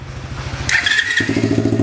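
A 50cc four-stroke mini trail motorcycle engine runs at a low idle, then a high squeal cuts in briefly before the engine picks up to a steadier, louder running note, close and with no talk.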